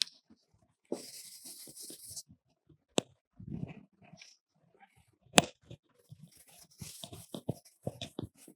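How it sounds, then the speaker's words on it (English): Pen strokes writing out a cobalt coordination complex during a chemistry lecture: intermittent scratchy scribbles separated by quiet pauses, with a few sharp taps and short bursts, close and fairly quiet, with no talking. "so I will write down the complex."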